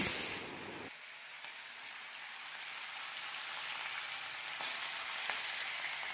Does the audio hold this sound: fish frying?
yes